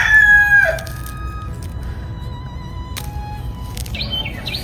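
A rooster crows once up close on a countryside farm in the rural United States, a loud drawn-out call in the first second, followed by quieter outdoor ambience with faint bird chirps.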